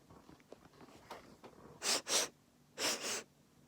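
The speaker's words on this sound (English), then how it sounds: "will start sniffing the air" Soft breathy noises give way to two pairs of sharp, quick sniffs close to the mic, with a brief pause between the pairs.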